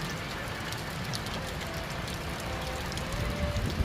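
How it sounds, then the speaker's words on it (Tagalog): Heavy rain pours steadily at a building site where waterproofing work has stopped, a dense, even hiss that swells slightly toward the end, with no voices. "Lakas ng ulan."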